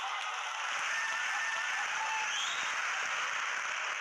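An audience claps steadily through a motivational business seminar hall, a dense continuous wash of many hands at moderate loudness with no pauses.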